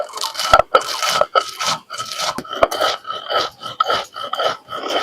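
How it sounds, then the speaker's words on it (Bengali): Roasted five-spice seeds ground coarsely on a stone slab with a stone roller (shil-nora) for a sweet raw-mango pickle: close, rhythmic back-and-forth rasping and scraping strokes with small crunchy clicks, and no voices. "একটু দানা দানা করে গুঁড়ো করে নিলাম।"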